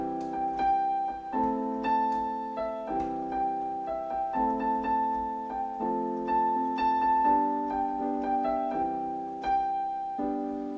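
Piano playing a song in full, repeated block chords with a steady pulse and a ringing melody note on top, close and moderately loud with no talking.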